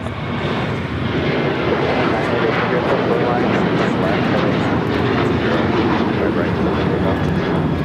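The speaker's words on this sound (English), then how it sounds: "This is Alaska Airlines 1127 taking off to Portland on the 737-900ER." An Alaska Airlines Boeing 737-900ER jet takes off from LAX bound for Portland, its engines producing a loud, steady, broadband roar that holds for the whole stretch, with people talking underneath.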